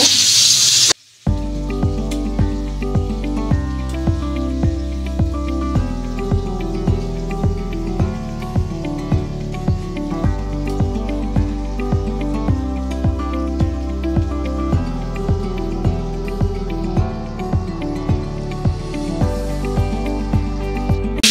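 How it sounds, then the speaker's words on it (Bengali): Shrimp fry in hot oil in a pan, giving a steady, continuous sizzle that runs the whole time over a regular repeating rhythmic backing. "একে একে চিংড়ি মাছগুলো ভালোভাবে ভেজে নিব।"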